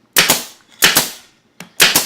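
A staple gun fastens upholstery fabric onto a sofa with sharp, loud close-up snaps: two quick double shots, then a single click and another double shot.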